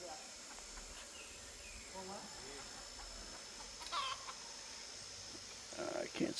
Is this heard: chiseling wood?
no